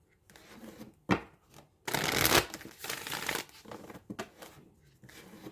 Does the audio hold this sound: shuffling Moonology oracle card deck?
yes